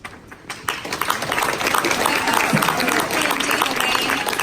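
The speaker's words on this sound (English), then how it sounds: "Please, no clapping." An audience at a public meeting on affordable housing breaks into applause after a short quiet start, a dense, steady wash of clapping with crowd noise that keeps going to the end.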